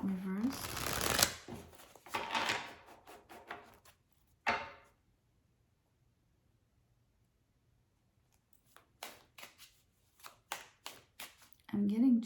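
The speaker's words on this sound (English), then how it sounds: "I'm going to start drawing the tarot." Tarot cards rustle and snap close up in dense bursts at the start, then fall quiet before a few sharp card flicks near the end, with a voice talking briefly at the edges.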